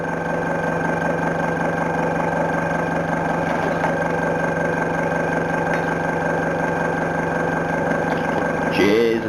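An air compressor runs steadily in a hobby workshop, a constant droning hum with a low pulsing throb throughout, near and loud, ending with a brief hiss of noise at the close.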